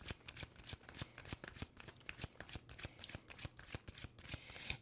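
Tarot cards being shuffled by hand, a quick run of soft, crisp riffling flicks repeating steadily, close and quiet.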